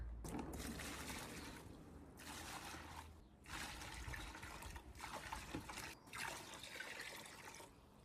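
Water pours in a steady, splashing stream into a bucket, measured for mixing powdered ceramic glaze, with brief pauses between pours; close and fairly quiet.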